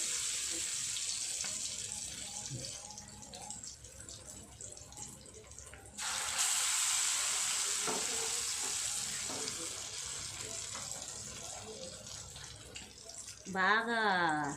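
Marinated fish drops into hot oil and fries with a broad, hissing sizzle that jumps louder partway through and stays steady, with a brief louder clatter near the end.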